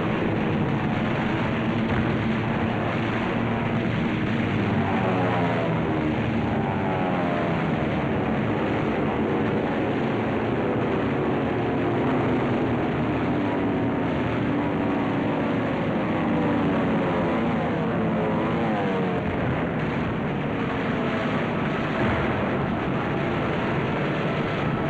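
WWII carrier aircraft engines drone during a dive on Truk, a dense, steady roar of piston engines that fills the whole stretch with a wavering, sweeping pitch and no pause.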